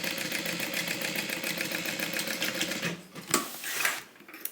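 A sewing machine stitching a divider bag runs in a steady fast rhythm for about three seconds, then stops, followed by a few soft handling clicks and rustles.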